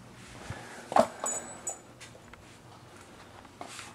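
A pet dog whimpers and yips indoors in brief, scattered whines and yelps with quiet gaps, one cry louder than the rest, over a faint room hum.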